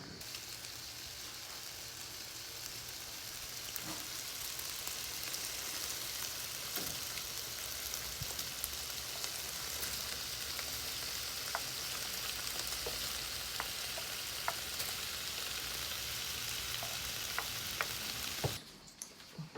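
Borscht dressing fries in a pan with a constant, even sizzle and hiss, close and steady for nearly twenty seconds, with a few light clicks and stirring scrapes and no talk.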